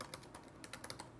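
Light, quick keystrokes on a computer keyboard while entering a password, a soft, uneven patter of clicks heard close but faint with no talk.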